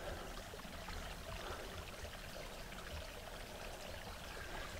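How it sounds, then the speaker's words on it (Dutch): A small ditch stream with a slight drop trickles and gurgles steadily, a soft continuous wash of flowing water heard alone. "Een klein slootje zo te horen."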